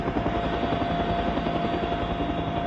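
A helicopter roars close by with a loud, steady, unbroken drone of engine and rotor that fills the whole stretch without a break, and no one speaks over it.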